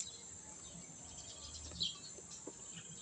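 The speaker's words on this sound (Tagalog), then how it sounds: "may mga huni-huni pa ng mga ibon" Birds chirping in quiet outdoor surroundings, a few faint scattered tweets over a steady high insect-like drone, distant and soft.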